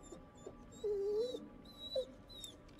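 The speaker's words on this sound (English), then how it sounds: "I'm getting that dog out." Dog whimpering in the horror video game The Devil In Me, one drawn-out whine then a short second whimper, faint under steady ambient game noise.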